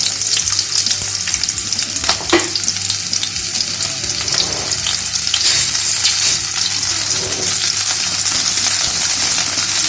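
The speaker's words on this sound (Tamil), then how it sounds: "வானலி வச்சு சூடான உடனே ஒரு 3 டீஸ்பூன் அளவுக்கு தேங்காய் எண்ணெயை ஊற்றிக்கோங்க. அதில் நம்ம எடுத்து வச்சுருக்கிற சின்ன வெங்காயத்தை போடுறோம்." Whole small onions sizzling in hot coconut oil in a pan, a loud continuous frying hiss with occasional clinks and stirring scrapes, no one speaking.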